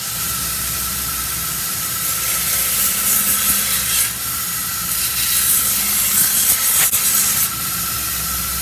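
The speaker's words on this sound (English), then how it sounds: "I'm just going to sand it." Sandpaper rubbing rust off the head of an old fire axe, a steady close hissing scrape that keeps going with small swells and dips in pressure throughout.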